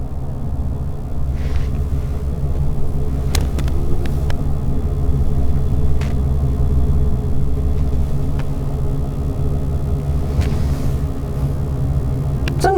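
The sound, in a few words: opposing road traffic passing a truck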